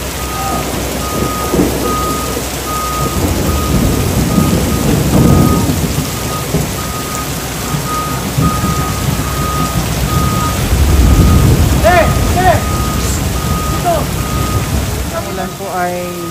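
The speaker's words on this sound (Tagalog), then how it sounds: "tuloy-tuloy yung ongoing demolition po nitong building" Heavy machinery demolishing a multi-storey barangay hall building: a steady mechanical rumble and crunching debris mixed with reversing beeps, loud and continuous over rain-like noise, with a voice talking over it.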